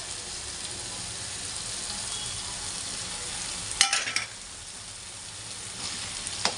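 Mixed masala frying in a pan, a steady bright sizzle throughout with a brief burst of louder stirring and scraping midway, no voices.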